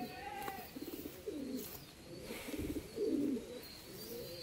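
A pair of young pigeons coo in low, repeated bursts, close by, with soft chirps and a steady background hum and no talking.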